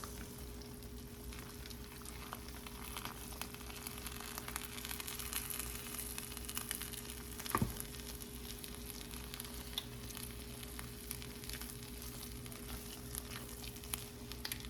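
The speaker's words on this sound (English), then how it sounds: "And I just go in and stir it" Food sizzles and fries steadily in a pan on the stove, a continuous soft crackle with a low hum, broken by one brief scrape of stirring midway.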